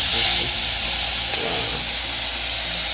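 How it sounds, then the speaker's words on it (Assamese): Fish fries in hot, smoking oil in a home kitchen, a loud, steady hissing sizzle that holds evenly from start to finish. "এইখিনি মায়ে মাছটো ভাজি আছে"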